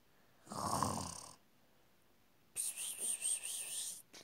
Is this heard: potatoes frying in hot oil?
no